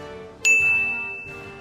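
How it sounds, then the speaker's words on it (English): A single bright notification ding rings out sharply and lingers with a sustained metallic tone, over a faint low background. "Notification bell?"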